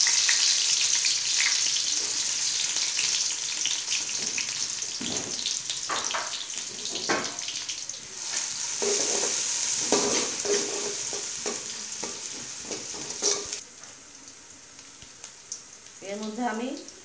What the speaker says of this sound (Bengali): আমার তেল গরম হয়ে গিয়েছে, এখন আমি এর মধ্যে পেঁয়াজ দিয়ে দিচ্ছি।